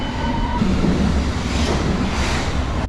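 A London Underground train at Temple station, with the loud, steady roar of wheels and carriages running throughout and a brief tone near the start.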